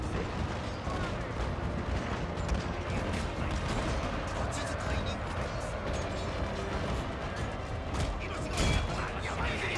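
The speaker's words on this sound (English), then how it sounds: "The mangonels are still firing. The katana cavalry is nearly destroyed. And finally my matchlocks fire." A dense, continuous din of battle in the video game Shogun 2, with mangonels and matchlock guns firing amid crackling shots and rumbling impacts, steady and loud throughout, with talk mixed in.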